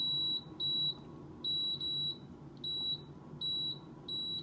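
A Power XL air fryer beeps while its timer and temperature are being set: a series of sharp, high electronic beeps in short bursts of two, repeating at about one-second intervals, close and clear over faint room hum.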